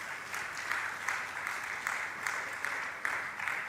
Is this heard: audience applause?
yes